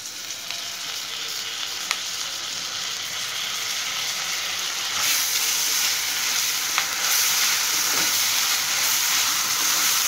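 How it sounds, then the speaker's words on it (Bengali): Ginger garlic paste frying among fried onions in a pan, a loud steady sizzle and hiss that swells midway, with occasional faint stirring clicks, close and without talk. "পেঁয়াজ ভাজা হয়ে গেছে, এখন এর মধ্যে দিয়ে দেব আদা রসুন বাটা।"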